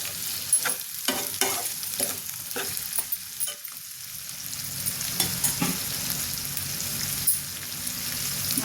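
Chicken liver frying in a pan for an Andhra-style gongura chicken liver curry, with a steady close sizzle broken by repeated scraping stirs of the spoon through the pieces.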